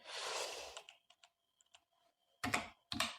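Typing on a computer keyboard: a few scattered light key clicks in a quiet room, close by, between louder broadband bursts of rustling noise at the start and near the end.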